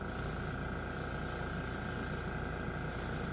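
A paint spray gun sprays chrome paint at 12 PSI, hissing steadily and close up, a continuous airy spray with slight shifts in tone as it sweeps.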